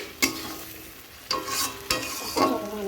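Fish curry cooking in a pan on a gas stove, a steady close sizzle and bubble broken by a few sharp scraping stirs, with no voices.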